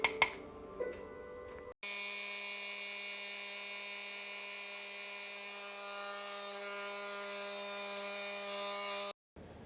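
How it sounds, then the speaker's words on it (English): An oscillating multi-tool cuts through baseboard boards with a steady, high, buzzing whine that holds for about seven seconds after a few faint knocks. It stops abruptly at the end. "I've never used an oscillating tool before, but this tool cut the boards like butter."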